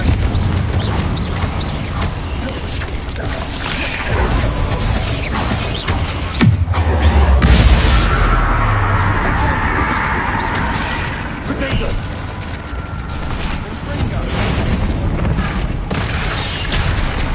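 Bombarda and Confringo spells go off in the video game Hogwarts Legacy, with a deep booming blast in the middle over a dense, continuous game soundscape and a player speaking.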